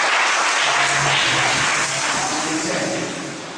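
A church congregation applauds during a worship service, giving a dense, sustained wash of clapping that fades slightly toward the end.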